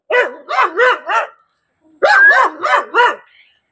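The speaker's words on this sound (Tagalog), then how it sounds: "At nagwawala yung aso." A dog barks loudly in two bursts of about four barks each, close by, separated by a short pause.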